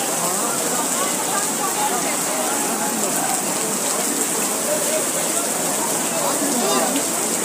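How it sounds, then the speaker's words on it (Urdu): Heavy rain pours in a dense, steady hiss over a flooded, traffic-jammed road in Dadyal, Azad Kashmir, loud and continuous throughout. "کافی بارش کافی دیر سے ہو رہی ہے"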